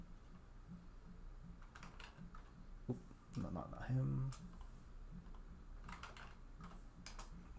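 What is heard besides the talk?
computer keyboard and mouse clicks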